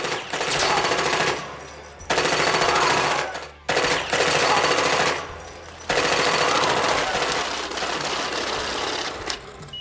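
Rapid bursts of gunfire rattle loudly in long sustained volleys, with brief pauses between them, a dense shootout in the film Scarface.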